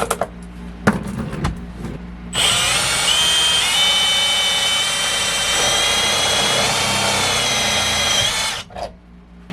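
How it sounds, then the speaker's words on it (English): Step bit boring a round hole through sheet metal for a rear seat belt bolt on a 1964 Ford Galaxie, a loud steady whining grind lasting about six seconds after a few brief knocks, then stopping abruptly. "So Dad's using the step bit there to gonna make sure we get a nice good round hole."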